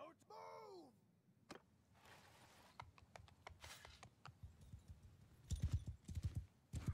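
Horses move about in Mount & Blade II: Bannerlord, a faint stream of clip-clopping hoof beats with soft rustles and clicks, quiet overall and heavier toward the end, with a brief chirping warble near the start.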